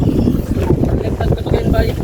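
Strong gusting wind buffets the microphone with a continuous low roar, loud and close throughout.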